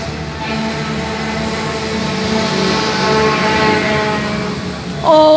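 Coal train locomotives rumble steadily past at close range, a loud continuous drone with layered mechanical tones that swells slightly before a brief brighter squeal at the end.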